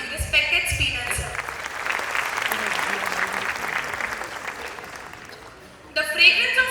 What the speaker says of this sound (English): with a huge round of applause, we welcome you, respected Spinal Sir